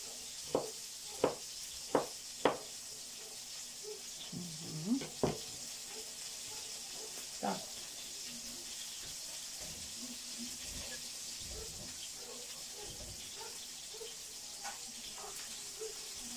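Soft, steady sizzling of fish frying in a pan, with a few sharp knocks and clatters early on and faint kitchen movement throughout.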